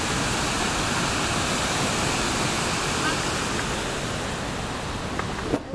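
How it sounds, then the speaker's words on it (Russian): Düden waterfall in Antalya, Turkey, a steady broadband roar of falling water that stays loud and continuous throughout, with a couple of brief knocks near the end. "Ух, вот она, водица падает."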